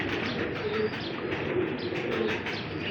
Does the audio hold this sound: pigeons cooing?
yes